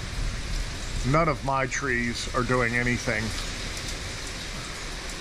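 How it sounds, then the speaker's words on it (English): A person talks over a constant rushing hiss of wind and rain during Hurricane Irma in Jacksonville, Florida, the gusts arriving with rain bands and swelling slightly, carrying on after the voice stops. "It's just gusts coming in with rain bands."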